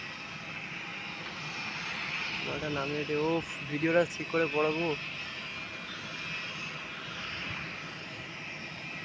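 Steady broadband roar of an airplane engine at an airport, Delhi, holding throughout at moderate distance while people chat in the foreground.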